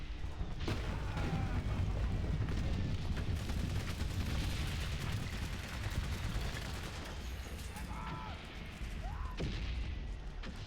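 In the World War I video game Valiant Hearts: The Great War, gunfire and artillery crack and boom repeatedly over a dense, rumbling battle din. Scattered sharp reports and a few whistling tones run throughout.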